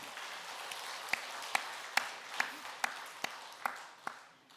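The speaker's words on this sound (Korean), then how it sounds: "우리 찬양대 감사와 하나님께 영광의 박수 올려드리겠습니다" Congregation applause in a church service, a steady wash of clapping with several sharper individual claps standing out, fairly quiet and heard alone before fading at the end.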